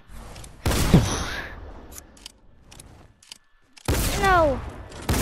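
Gunshot blasts in Fortnite, a loud burst near the start and another near the end, with whooshing tonal game effects in between.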